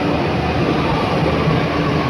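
A metro train arrives at a station on the Gurugram route, a loud, steady low rumble and rolling hum filling the space without pause.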